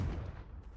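Confringo fire-blast spell cast in the video game Hogwarts Legacy, a single short, deep boom that fades quickly.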